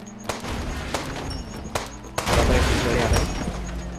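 Gunfire rings out in the Indian Bike Driving 3D mobile game. A few sharp single shots are followed by a loud, dense burst of rapid fire that runs on for over a second, with the game's background sound underneath.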